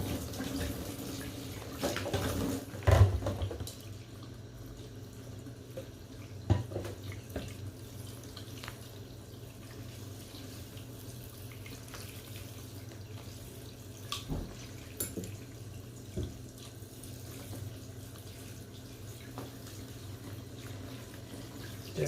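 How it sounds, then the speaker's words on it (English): Tap water runs steadily to wet hair ahead of washing with a tea tree shampoo, a soft continuous splashing stream with occasional louder splats and drips, close by and without voices. "So first I'm going to get the hair wet."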